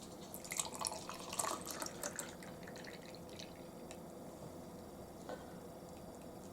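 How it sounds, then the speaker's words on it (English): Juice trickles and drips into a Lebice plastic popsicle mold, a faint continuous liquid patter with brief splashes early on, close and quiet without any talk. "I'm going to pour the juice in there."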